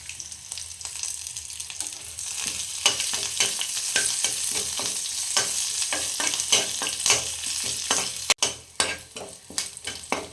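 Curry leaves and garlic fry in a pan with a steady, close crackling sizzle, broken by frequent scraping stirs and a sharp clatter near the end.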